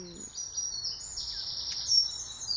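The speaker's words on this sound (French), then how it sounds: "Je ne sais pas si vous entendez les oiseaux qui chantent." Small birds chirp and sing high and thin outdoors along a walking route near Halle, a steady soft chorus over faint background noise, with no talking.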